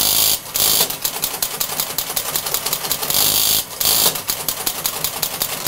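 Loud, continuous mechanical chattering of a teleprinter at Bletchley Park printing Lorenz codebreaking results, with rapid rhythmic clacking broken by two brief pauses.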